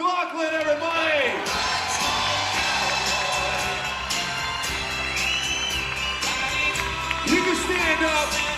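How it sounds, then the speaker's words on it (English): A crowd cheers, whoops and shouts in a roaring welcome at the Hard Rock Bristol grand opening as a speaker takes the stage. The noise is loud and continuous, with voices rising through it. "help me welcome to the stage with a roaring round of applause"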